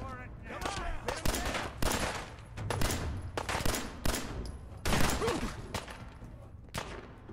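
Loud, punchy shots fired from a gun in Fallout 4 ring out in uneven bursts of several rounds across seven seconds, with a voice faintly present at moments.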